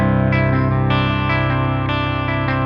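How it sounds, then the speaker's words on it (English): An electric guitar plays through the clean channel of an amplifier with no pedals, giving sustained, ringing chords with a few fresh strums, loud and steady throughout. "this is the pure sound of the clean channel"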